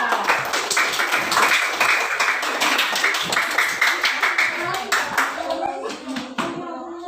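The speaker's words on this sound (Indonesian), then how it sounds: "kita beri tepuk tangan untuk Zaskia" Classroom applause for a student during a teaching practice lesson, steady clapping from many hands through most of the span with children's voices mixed in, tapering off near the end.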